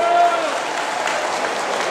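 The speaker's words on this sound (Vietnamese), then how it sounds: "Một tràng vỗ tay cho gia đình của Hiền." Audience applause at a Vietnamese music concert in Holland for a family seated in the crowd, a continuous steady wash of clapping throughout.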